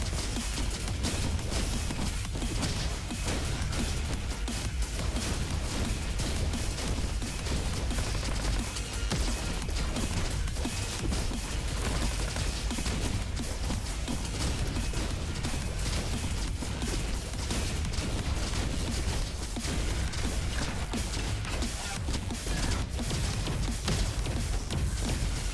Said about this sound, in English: Soul Fader shotgun.